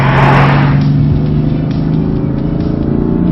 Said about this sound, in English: growly sort of a throttle response, which frankly is a lot of fun to drive with